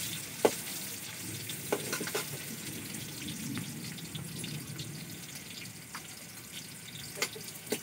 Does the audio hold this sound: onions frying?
yes